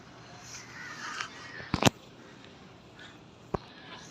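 Crows caw at sunrise over a quiet outdoor background, with a few distant calls early on, a sharp cluster of nearer caws in the middle, and a single brief caw near the end.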